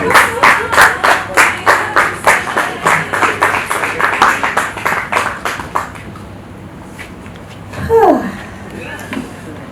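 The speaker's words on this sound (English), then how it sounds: "A round of applause for her" Applause for the opening speaker at a tourism media roundtable, a run of sharp, fairly loud rhythmic claps that thin out and stop midway, followed by a brief rustle and quiet room tone.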